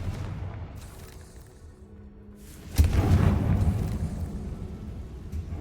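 Confringo fire spell cast in the Hogwarts Legacy video game, a sudden loud booming blast partway through that rolls into a sustained rumbling roar, preceded by quieter ambient game sound.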